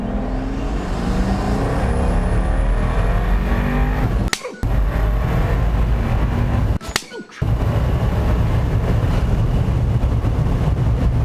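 A Pagani Huayra Roadster accelerates hard, its engine a loud, close, continuous roar broken by two sharp cuts at gear changes before the roar surges again, with no voices over it.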